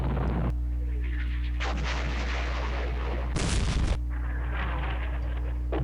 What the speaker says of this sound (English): It's wild artillery.